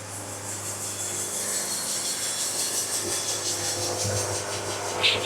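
Steady rasping of a hand saw quarter sawing wood, a continuous scratchy rubbing sound up close with no talking.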